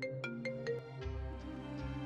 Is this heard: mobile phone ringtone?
yes